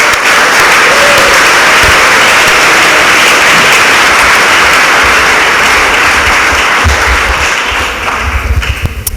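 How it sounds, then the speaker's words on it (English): Loud, sustained applause from an audience at a public talk in an art college hall, a dense wash of many hands clapping throughout, with a few sharper individual claps standing out near the end. "I think they deserve a round of applause."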